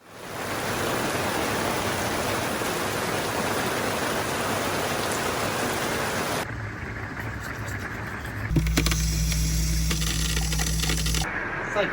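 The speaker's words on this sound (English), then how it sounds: "It's like really raining." Loud, steady thunderstorm rain on a 2018 Geo Pro 19 FBS travel trailer roars as a dense hiss, shifting midway to a duller drumming with a low hum underneath.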